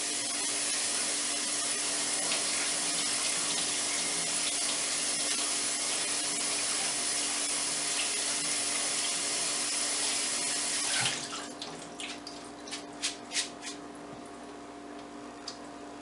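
A kitchen tap runs a steady, hissing stream of water over lentils being rinsed for a crock-pot stew. It flows continuously for about eleven seconds, then shuts off, followed by a few faint clicks and ticks.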